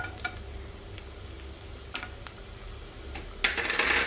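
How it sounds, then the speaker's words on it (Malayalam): Mustard seeds, chana dal and cashews fry in hot oil for rava upma, a soft continuous sizzle broken by occasional pops and spoon taps, with a louder hiss swelling at the end. "അപ്പോൾ ഇവിടെ കടുക് നന്നായിട്ട് വെടിച്ചിട്ടുണ്ട്"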